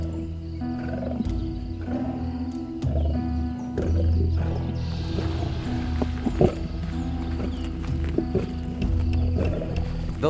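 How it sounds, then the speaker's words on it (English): Lioness feeding at a hyena's kill by the Limpopo River, with low rumbling growls and snarls repeating close by over a noisy outdoor background. "The lioness has helped herself to the hyena's kill."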